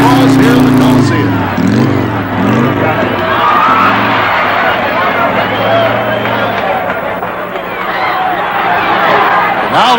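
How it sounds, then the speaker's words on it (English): Huge stadium crowd at the Los Angeles Memorial Coliseum roaring and applauding after Evel Knievel's motorcycle jump, a dense, loud wash of cheering that continues throughout, with a commentator's voice over it at the start. "here he comes back into the tremendous thunderous applause here in the Coliseum"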